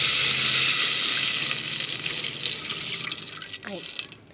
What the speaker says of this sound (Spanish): Vamos a ponerle el agua porque esta cebolla se cocina demasiado rápido